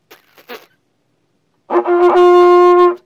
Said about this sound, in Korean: 힘이 완전히 들어간 버징.